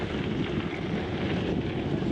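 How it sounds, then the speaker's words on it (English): Gusty wind buffeting the microphone while riding a Santa Cruz Stigmata gravel bike on an off-road course, a dense continuous low rumble and roar, loud and steady, with no speech. "sketchy on them. Oh, bit of gusting."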